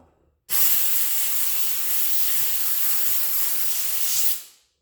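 Steam cleaner blasting a cast aluminum engine part, a sudden loud continuous hiss of spraying steam that holds steady for about four seconds before cutting off and fading out.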